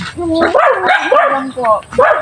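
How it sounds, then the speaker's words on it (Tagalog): A blue-eyed brown dog at a backyard piggery gives a few close, yipping barks and whimpers in short bursts, with people's voices mixed in. "yung aso ni naati kakaiba. Imported, blue eyes"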